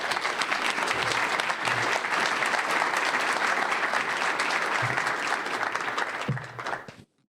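An audience at a museum event on California biodiversity gives a dense, steady round of applause that holds evenly for about seven seconds, then cuts off sharply.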